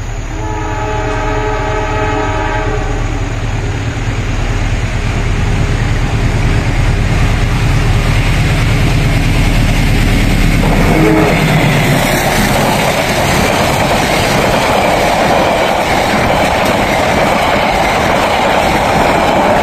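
A Tanjung passenger train sounds a long, loud horn as it draws near, then roars past close by at a level crossing with rumbling wheels and clattering cars that fill the rest of the clip.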